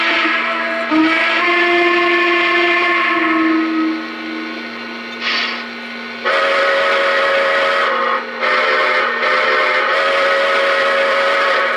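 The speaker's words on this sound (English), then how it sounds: "Another low whistle." A low steam whistle on the Greenbrier Chessie train sounds loud and close, holding for several seconds, then blasting again in a few long, sustained bursts.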